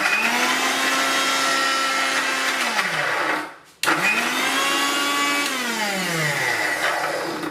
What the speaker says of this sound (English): you really need to blend it into a smooth ice cream like paste sort of thing